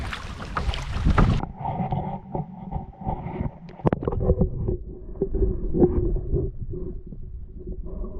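Gusty wind buffets the microphone over rhythmic paddle strokes and water sloshing against a canoe paddling into the wind on a lake in northern Canada, steady and close throughout.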